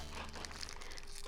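A candy wrapper crinkles and crackles steadily as it is pulled apart by hand, a soft, close rustle lasting about a second with no voices.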